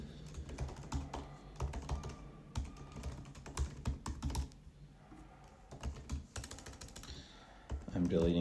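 Rapid keystrokes on a computer keyboard come in bursts with short pauses while someone signs in to an account, close and clear, with a voice speaking briefly near the end.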